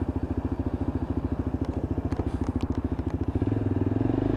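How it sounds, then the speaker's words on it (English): A Lexmoto LXR SE Euro 5 motorcycle pulls out in second gear with a rapid, even engine thump, fairly close and steady, swelling slightly near the end. "And just sitting it in second gear as we pull out. Going to get it out onto the road and give it a ride test."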